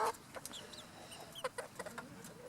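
Young chickens, nearly all roosters with a single pullet, cluck and chirp in scattered short calls over a quiet outdoor background, some notes sharper and closer than others.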